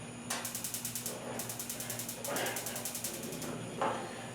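Blackstone griddle control knob turned with rapid rhythmic clicking bursts from the igniter, repeated several times with short gaps and soft whooshes as the burners catch, close and moderately loud.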